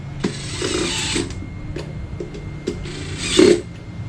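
Screws being tightened by hand with a screwdriver while reassembling an electric fan that would not spin: scattered scraping and ratcheting clicks with a louder rasp near the end, close by, with no talking.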